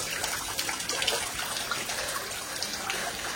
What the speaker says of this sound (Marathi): हा भाई प्युअर क्लीन पाणी आहे